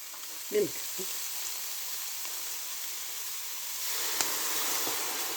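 Milk poured into a pan of chickpeas and tomatoes cooking for an egg chickpea curry, a couple of brief splashy bursts, then a soft, steady sizzling hiss that grows slightly louder.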